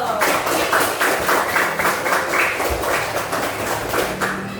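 A classroom of students claps hands together in steady, dense applause that lasts the whole stretch, with faint voices mixed underneath.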